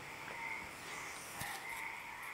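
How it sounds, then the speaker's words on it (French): Frogs croak outdoors on a hot evening, with a steady chorus of buzzy calls and a few sharper clicks over a constant background hiss, at moderate distance, with no speech. "les grenouilles, c'est chez toi, Mélissa?"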